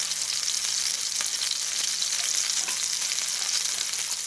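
Bacon warming and sizzling on a kitchen stove, a steady, close, bright hiss of frying fat with faint crackles, continuous and without speech.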